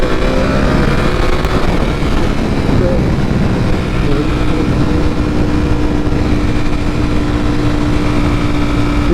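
A Nissan GT-R's engine runs nearby as a loud, steady drone with a rumbling low end, heard from inside a moving car.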